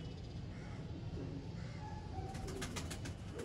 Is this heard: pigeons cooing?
yes